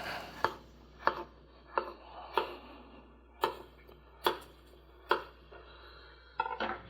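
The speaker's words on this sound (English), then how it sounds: "Then we're slicing the potato in even slices," A knife slices through a potato on a cutting board in about ten separate, evenly spaced chops, each a crisp, close thud with quiet pauses between.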